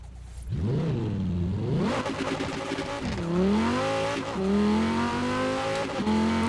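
A rear-engine Cyberpunk 2077 car in the racing game Forza Horizon 4, its engine revving up and down through rising, sweeping pitches with gear changes, loud and close with no talk.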